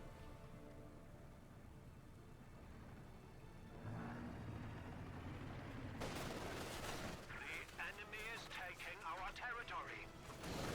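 Gunfire in Company of Heroes 2 during a real-time strategy battle, with bursts of small-arms fire and rattling volleys that build from a low rumble into dense, crackling exchanges, heard under a caster's continuous commentary.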